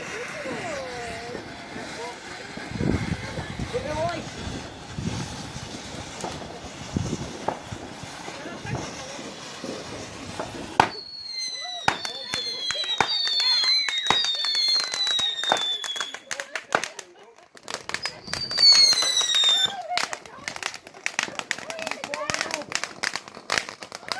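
Bonfire Night fireworks bang and crackle outdoors, first as scattered pops under people talking nearby, then a dense run of sharp cracks and whistling rockets rising, with voices continuing throughout.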